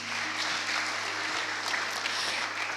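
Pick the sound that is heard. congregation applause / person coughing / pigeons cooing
congregation applause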